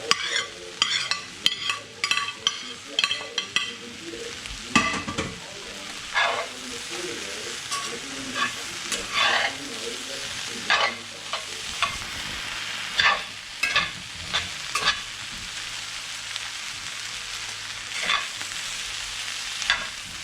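Meat hits a pan of garlic and sizzles loudly up close, with repeated bursts of clattering stirring and scraping rising over a constant fry hiss.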